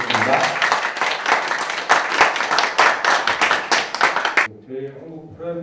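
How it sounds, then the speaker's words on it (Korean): Audience applause greets a Prime Pharmaceutical executive at a 2021 donation ceremony for visually impaired people in Gwangju, with dense clapping running about four and a half seconds before a voice starts speaking. "박수 한번 부탁드리겠습니다."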